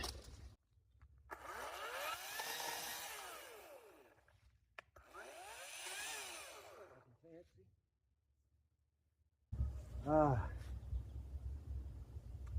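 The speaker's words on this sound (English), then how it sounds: "electric chainsaw works all right." A small electric chainsaw cutting wood outdoors whines in two long bursts several seconds apart, loud and close, with a brief voice and clatter after.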